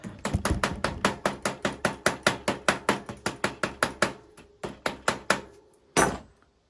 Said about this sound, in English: you use a non-marring hammer like this Park Tool one here to just bray out the end